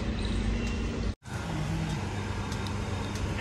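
Loud, steady engine rumble of a car in the Defence area, close by and continuous, with a brief sharp dropout about a second in before the drone resumes; no one talks over it.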